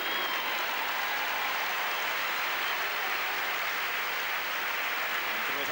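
Dense, steady applause from a large audience at a 1996 tennis exhibition in Zaragoza fills the whole stretch at an even level.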